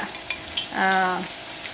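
Ginger and garlic hit a hot pan for a chicken roast, giving a short stirring, sizzling burst around the middle with quieter kitchen clatter either side.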